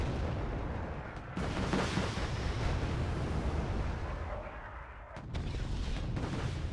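Tunguska anti-aircraft guns firing in the wargame Wargame: Red Dragon, a dense, loud roar of rapid cannon bursts and booms running almost continuously, with a short break before the barrage resumes.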